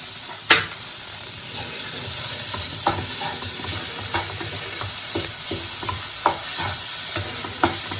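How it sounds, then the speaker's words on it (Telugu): Egg burjee being stirred and fried in a pan, with a steady sizzle and scattered scraping clicks from the spatula, close and continuous with no talking. "ఇప్పుడు మొత్తాన్ని కలిపి బాగా వేపుకోవాలి."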